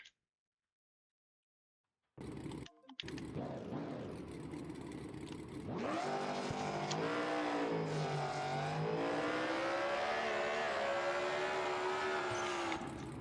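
A car engine in the driving simulator BeamNG drones at first, then revs up sharply and holds a loud, steady whine that rises and dips in pitch as the revs change, after a brief silent start.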